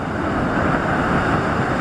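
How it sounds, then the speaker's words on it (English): Rough water at Pelagic Bay splashes over a boat, a dense, steady roar of surf and wind noise filling the whole stretch at a fairly loud level. "Oh, that's a nice splash over."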